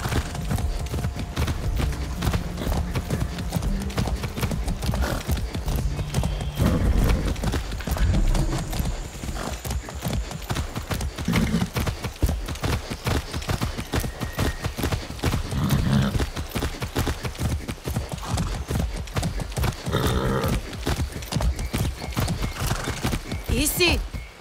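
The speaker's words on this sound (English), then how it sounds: "That's a good horse." Horse hooves clip-clop steadily and loudly in the Far Cry 6 video game, a rhythmic trot running throughout with game music and a voice speaking over it.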